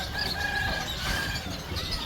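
Chirping and peeping of baby ducklings at a bird market in Dubai, several high calls over a busy, moderately quiet market background with no talk.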